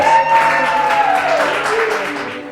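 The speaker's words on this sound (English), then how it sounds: "Clap it up for them, please." An audience at a school cooking-competition show applauds as two contestants are introduced. The clapping is fairly close and steady, then fades slightly over a couple of seconds, and a faint tone sits underneath.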